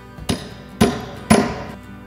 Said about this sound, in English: With the pick, I'm going to punch a hole where the water's coming through.